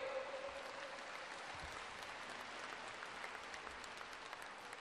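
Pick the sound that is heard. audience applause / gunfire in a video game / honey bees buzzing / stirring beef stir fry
audience applause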